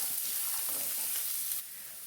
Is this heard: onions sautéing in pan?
yes